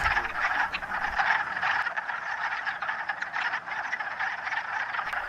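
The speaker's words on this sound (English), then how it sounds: "the frogs cluck above" A dense chorus of wood frogs clucking and croaking continuously, many voices overlapping at a steady level with no pauses.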